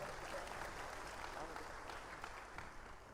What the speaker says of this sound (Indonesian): tepuk tangan buat Ustadz Syakir